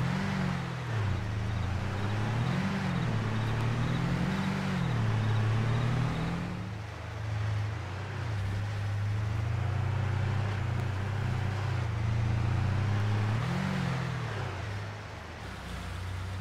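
A truck engine drones steadily in Farming Simulator 22 as it drives toward the sawmill, with loud low rumbling whose pitch rises and falls in a few gentle revving swells.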